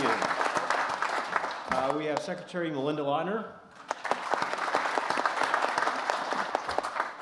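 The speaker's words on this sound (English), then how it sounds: "Let's applaud each and every one of them" Audience at an electric cooperative annual meeting claps for board members, dense steady applause that pauses briefly while someone speaks over a microphone, then resumes just as strongly.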